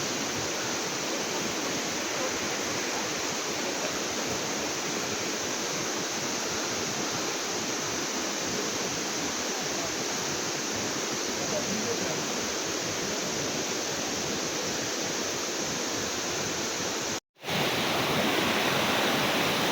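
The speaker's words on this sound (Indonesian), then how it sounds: "Ada aliran sungai guys." Near the Curug Lawe waterfall, a river rushes in a dense, continuous roar that fills the scene at close range, broken only by a brief dropout near the end.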